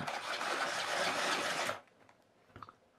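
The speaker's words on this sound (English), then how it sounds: "Wind the handle to power up the party." Bob the Builder toy being wound by its handle, a loud steady grinding rasp that runs for about a second and a half, then stops abruptly and leaves a few faint clicks.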